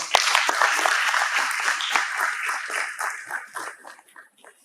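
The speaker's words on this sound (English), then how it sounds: "Please give them a round of applause." Audience applause at a World Suicide Day ceremony in Kumasi, a dense burst of many hands clapping that starts loud and gradually thins and fades out over a few seconds.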